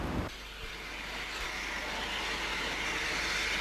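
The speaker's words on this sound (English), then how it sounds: "The arrival of standard tank 80135 with a train from Pickering completes a delightful tableau." Standard tank locomotive 80135 draws a steam train in from Pickering to a Victorian country station in a steep-sided moorland valley, a broad steady roar of steam and rolling stock that swells slightly as it nears, with no voices.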